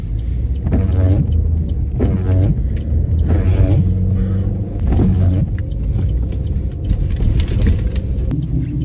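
Interior of a car crawling through packed traffic in a turning lane, a steady low engine rumble and road noise with occasional louder surges, heard close from inside the cabin.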